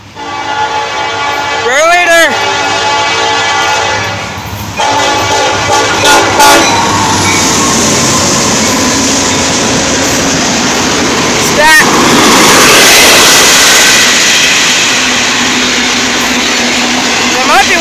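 A Norfolk Southern double-stack freight train rumbles loudly past close by, with a strong horn blast early on, followed by the steady roar and rattle of the cars. Voices can be heard faintly underneath.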